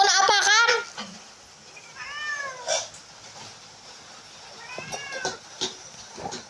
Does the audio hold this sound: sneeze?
no